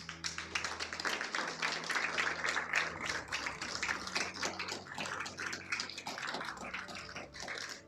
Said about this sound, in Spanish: Alguien dele un aplauso fuerte al Señor